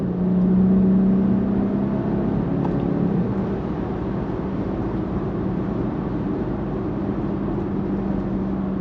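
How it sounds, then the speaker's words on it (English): A Jaguar XF (X260) petrol car accelerates hard in sport mode with its engine note droning steadily under a loud, continuous rush of road and wind noise from inside the cabin. "So let's put the car into dynamic, back to sport, and floor it"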